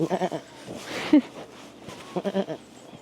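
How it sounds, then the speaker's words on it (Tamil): Bleating from a Swiss goat on a farm, several nasal bleats heard close by, with a louder cry near the middle, over low background voices. "இது ஸ்ரீலங்கா ஆடு இல்லை இது சுவிஸ் ஆடு"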